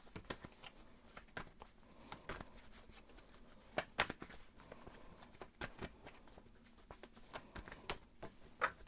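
Tarot cards being shuffled by hand, a string of quick crisp riffles and flicks in uneven bursts, fairly close and quiet, with no speech over them.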